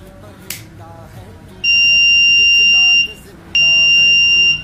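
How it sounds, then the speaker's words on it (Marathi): A buzzer on homemade anti-sleep goggles sounds in two long, loud, steady electronic bursts with a short gap between them, close by and shrill, after a brief stretch of quieter room sound. "डोळे बंद झाल्यावरतीच हा बझर वाजतो"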